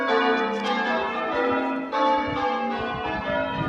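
Church bells in Rye ring out in a dense, sustained cascade of overlapping metallic tones, loud and resonant, with faint footsteps beneath.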